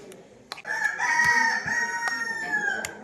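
A Christmas rooster crows in a long, loud call that rises and holds, with a few sharp knocks around it and no talk.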